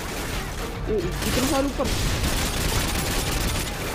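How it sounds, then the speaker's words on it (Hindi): Dense gunfire crackles from all sides in Call of Duty: Modern Warfare, a steady barrage running the whole time, with an excited voice speaking briefly over the shots. "गोली चल रही है हर तरफ से भाई, गोली चल रही है।"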